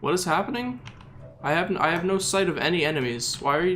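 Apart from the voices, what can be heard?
No distinct noise like a dog, phone or traffic.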